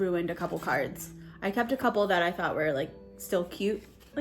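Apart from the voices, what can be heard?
No distinct noise like a dog, phone or traffic.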